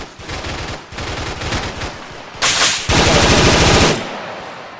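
Automatic gunfire crackles in Arma 3 Wasteland near the Abdera gun store, with several rapid machine-gun bursts separated by brief pauses and a louder, sharper burst near the end.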